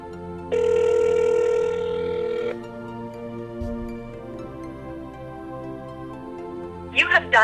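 A telephone rings after a toll-free support number is dialed, one loud electronic ring burst followed by quieter tones and clicks, ending with a brief voice.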